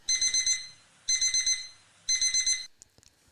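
An alarm sound effect plays on a Phillies vs. Braves baseball broadcast: three loud bursts of rapid electronic beeping, each a quick run of four pulses with short pauses between, followed by a few faint clicks.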